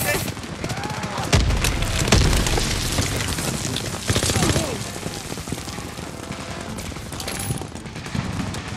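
Explosions and gunfire from a Call of Duty: WWII battle, with a heavy boom from a thrown grenade amid rattling machine-gun bursts and dense combat noise, and a voice speaking over the fighting.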